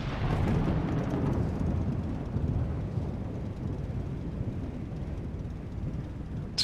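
Steady, loud wind roars outside a plane at an airport during a thunderstorm in Microsoft Flight Simulator 2020, a continuous broadband rush with low rumble that holds through the whole stretch.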